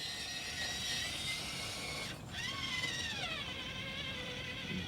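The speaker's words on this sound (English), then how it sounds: "Good amount of lug noise," RC crawler rolling on soft Rhino MOZA 2.2-inch tires, the lugs giving a steady buzzing whir across the terrain, near and continuous with a brief dip midway before the tread noise resumes.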